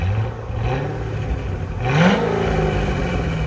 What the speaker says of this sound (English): 2007 Chevy Corvette Z06. This is what it sounds like before.